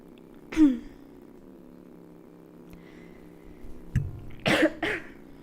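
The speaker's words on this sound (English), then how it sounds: "Shameful coughing." A single person coughs, one short cough early on, then a quiet stretch before a burst of several harsh coughs near the end, close to the microphone.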